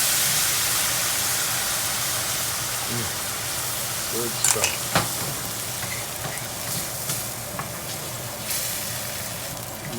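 A hot pan hisses and sizzles loudly as white wine and a quarter cup of water are poured in while cooking shrimp fra diavolo, the steamy fizz fading gradually, with a few clinks and a brief spoken comment.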